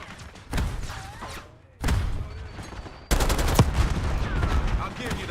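Gunfire in a multiplayer shooter video game, bursts of rapid automatic shots starting and stopping abruptly in three loud stretches, with a louder, denser barrage near the end.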